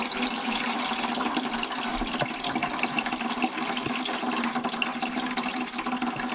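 Dirty water drains steadily out of a neglected, plugged-up steam boiler, a continuous close gushing and splashing flow with no pauses and no voices.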